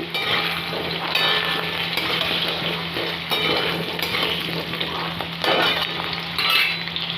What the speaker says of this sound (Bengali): চলো আলুটাকে প্রথমে ফ্রাই করে নিই ভালো করে